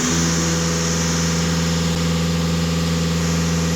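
Volkswagen Passat 2.0 TDI diesel, a US-market car, idling steadily with a constant low rumble and harmonic hum, close and loud, no talk.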